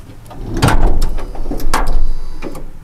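A power sliding door on a van, fitted with genuine Japanese parts, glides shut with a soft motorized whir and muted mechanical clicks and thumps over a few seconds, fairly close and with no talking.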